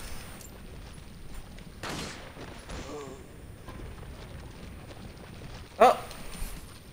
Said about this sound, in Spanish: le pegó un riflazo en el pecho